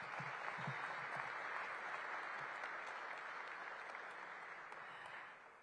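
A crowd at a Washington groundbreaking event applauds council members with a broad, steady wash of clapping, fairly distant and even, fading slightly at the end; a few low voice fragments sound at the start.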